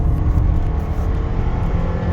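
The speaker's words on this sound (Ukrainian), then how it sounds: "Ну, зараз узнаємо, як вона буде їхати від нуля до сотні." A 2008 Toyota Camry with a 2.4-litre engine and automatic gearbox accelerating uphill under load, its engine droning loud and steady from inside the cabin throughout, with no talk.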